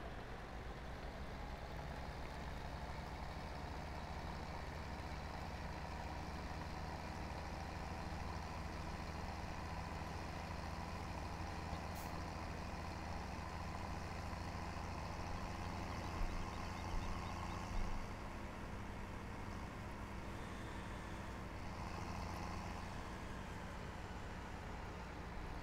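Steady engine drone from a farm vehicle in Farming Simulator 2017, a continuous low rumble with broadband hum holding even throughout and no talk over it.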